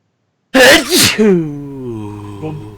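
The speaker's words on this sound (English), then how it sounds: "I tried to re-rack that sneeze so it was like a little more" A single loud sneeze bursts out sharply after a moment of silence, followed by a drawn-out, fading vocal tail.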